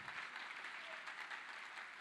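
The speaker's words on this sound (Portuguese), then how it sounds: "Você pode aplaudir ao Senhor," A church congregation applauds quietly, a soft, even patter of many hands clapping in a reverberant hall, with a faint low hum underneath.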